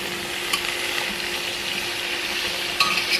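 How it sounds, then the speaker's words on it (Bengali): Mixed vegetables fry in a pan for khichuri made with rice and lentils, making a constant close sizzle with a couple of brief utensil clinks as they are stirred. "এবার আমি এই যে সবজিগুলো লাল লাল করে একটু ভেজে নেব।"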